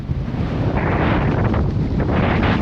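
Loud, gusty wind in the Patagonian desert rumbles and blasts against the microphone throughout, a dense continuous roar with no talking.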